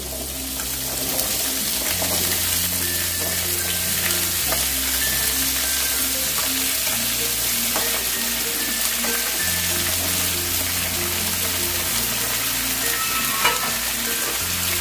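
Mixed vegetables for Bengali shukto fry in hot oil in a pan, a loud, continuous close sizzle with steady stirring and occasional light scraping, no voices.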